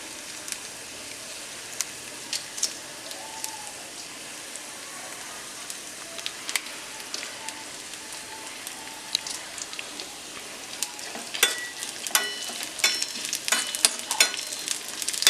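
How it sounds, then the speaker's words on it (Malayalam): Dried red chillies frying with onion in a pan for masoor dal curry, a faint crackling sizzle with sharp ticks and spoon scrapes that grow busier toward the end. "വറ്റൽമുളക് ഒന്ന് മൂത്ത് വരുന്നോളം ഇളക്കി കൊടുക്കാം."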